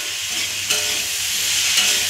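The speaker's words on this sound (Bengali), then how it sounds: "আমি কালো জিরা ফোড়ন দিয়ে শসাটা বসিয়ে দিলাম এক পাশে হলুদ লবণ দিয়ে" Cucumber sizzles in hot oil tempered with black cumin seeds, a steady bright hiss that stays loud and even with a couple of small crackling bursts.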